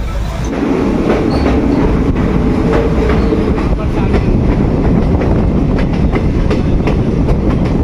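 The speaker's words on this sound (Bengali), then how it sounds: "শিয়ালদা থেকে একশো তিপ্পান্ন কিলোমিটার পথ অতিক্রম করে আমাদের ট্রেন এসে পৌঁছালো কবিগুরু দেশ বোলপুর শান্তিনিকেতন" The 13175 Kanchanjunga Express from Sealdah toward Guwahati runs on rails with a loud, continuous rumble and a rhythmic clickety-clack of wheels, heard up close throughout.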